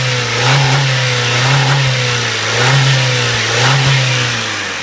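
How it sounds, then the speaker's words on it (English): A 2001 Mazda 626 LX sedan engine revs up and down repeatedly at close range, with loud rising and falling pulses over a steady running note and no talk. "Let's rev her up."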